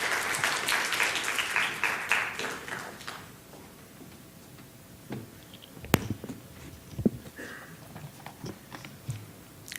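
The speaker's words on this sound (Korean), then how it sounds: "우리 박수로 한번 격려해" A congregation at a Sunday church service claps to encourage a woman coming forward to share her testimony. The fairly loud applause lasts about three seconds, then dies away into a quiet room broken by a few scattered knocks and shuffles.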